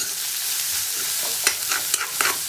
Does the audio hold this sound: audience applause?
no